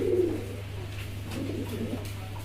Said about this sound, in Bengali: দর্শক এখানে কিন্তু আরও এক জোড়া কবুতর আছে